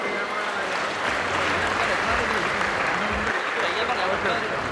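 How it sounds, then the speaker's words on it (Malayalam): An audience at the Chengannur Saras Mela stage claps steadily during a Kudumbashree prize-giving ceremony, dense continuous applause filling the hall while a voice speaks over it. "ഉറക്ക കൈയടിച്ച് അത് മനസ്സിലാക്കി കൊടുക്കും"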